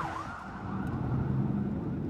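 An emergency vehicle siren wails through Beirut's streets amid bombardment response calls. It opens with a rising and falling sweep, then holds a steady tone over a continuous low rumble of traffic and engines.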